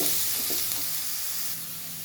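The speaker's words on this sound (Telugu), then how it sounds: "ఇప్పుడు కొంచెం జింజర్ గార్లిక్ పేస్ట్ అంటే అల్లం వెల్లుల్లి గార్లిక్ పేస్ట్ వేసుకోవాలి" Ginger garlic paste frying on low heat in a pan for an eggplant and coconut curry, a steady soft sizzle over about two seconds with faint stirring, fairly quiet and with no voice.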